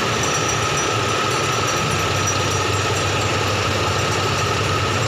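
A Toyota Big Body XE engine with a new timing belt idles steadily up close, a constant rough mechanical rumble with a faint ticking texture and no voices.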